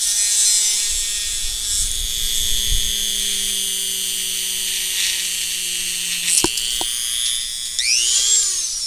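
Small rotary drill whining into a plastic Zoid model part, a sustained high-pitched buzz with brief clicks and a pitch shift near the end.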